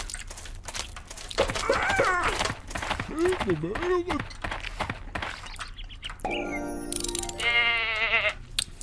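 Sheep bleat in a video game, a wavering cry plus a couple of shorter bleats near the end, under someone talking through most of the stretch.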